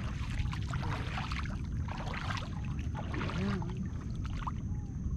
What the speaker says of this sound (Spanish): Esta lancha también así hace bulla